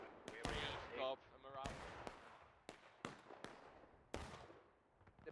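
Musket fire in the Civil War game War of Rights during a historical rules event: several sharp, scattered shots ring out one after another at uneven intervals, some close and loud, others thinner, with voices talking in the background.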